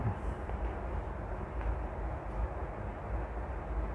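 A low, steady rumble of a commuter train rolling past at night in Jakarta, continuous and fairly close, with a heavy muffled roar throughout.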